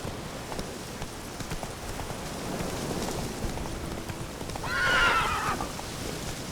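Roach, a horse in the video game Witcher 3, lets out a clear whinnying neigh about two thirds through, over a steady wash of rain and faint hoofbeats.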